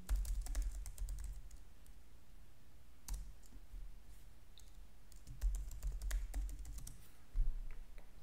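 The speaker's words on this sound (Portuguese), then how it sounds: "eu prefiro digitar eles aqui para não mostrar" Typing on a computer keyboard while entering a username and password at a terminal, with quiet clustered key clicks in short bursts and a low background rumble, no talking.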